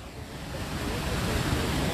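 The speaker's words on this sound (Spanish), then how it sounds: "Esa cascada, que es cuando el río ya viene a su máximo tope." A river waterfall at full flow, a steady broadband roar of rushing water heard up close and loud, alone without voices.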